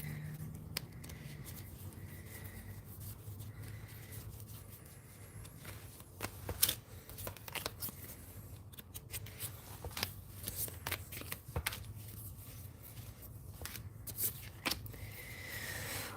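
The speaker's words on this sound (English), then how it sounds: "Did I shuffle these wrong?" Playing cards being shuffled and riffled repeatedly, with crisp fluttering bursts and occasional snaps, fairly close and with no talking.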